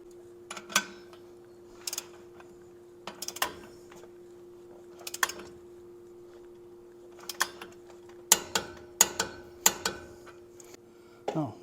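A ratchet wrench works the upper ball joint nut on a Dana 44 axle with a crossover high-steer kit, giving sparse sharp metallic clicks in short clusters against a faint steady hum, close and fairly quiet.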